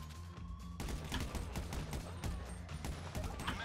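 SMG fire in a Grand Theft Auto V prison break heist, rapid rattling bursts layered over a busy, loud rumble of game noise, with no one speaking.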